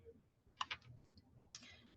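A computer mouse clicks quietly a few times, a quick double click followed by a single click, in a hushed room.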